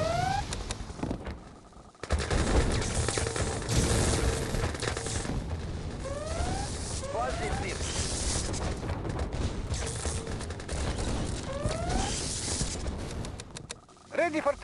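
Gunfire and explosions in the strategy game Red Alert 2, a dense, continuous clatter of shots and booms with unit voice chirps popping through at intervals.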